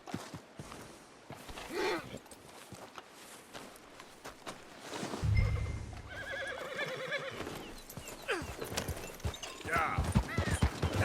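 A horse in the video game Red Dead Redemption 2 gives a loud, quavering whinny partway through. Hoof clops, snorts, faint rustling and a voice come around it.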